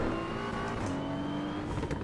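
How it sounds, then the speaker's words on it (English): A BMW M4 GT3 Evo race car engine roars loudly and continuously in a GT3 racing sim game, with a rough, stuttering traction-control cut under heavy revs and no talk. "Fun fact, the sound of the TC cut sounds amazing"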